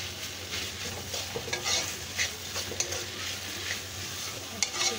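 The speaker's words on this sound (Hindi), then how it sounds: "अच्छे से हमें इसको सेकना और फ्राई करते रहना है इसको" Street-style vegetable chowmein stir-frying in a pan, with a steady hiss broken by scraping and stirring strokes. No one speaks.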